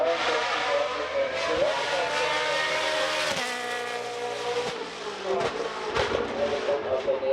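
A hill climb race car on a European mountain course howls through a series of sharp downshifts, engine pitch dropping and snapping back up with crackling blips, loud and close.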